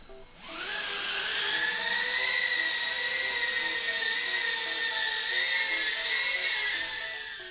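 FPV drone with a Manus Flight V2 tune spins up and holds a loud, steady high-pitched motor whine with rising harmonic tones, sustained close to the microphone for several seconds with no talk.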